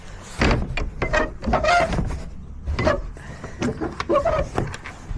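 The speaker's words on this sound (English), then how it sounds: "Shut the door." A horse trailer door is shut after loading a horse for a showjumping competition: a series of loud, nearby metallic bangs and clunks, with the latch rattling between the hits.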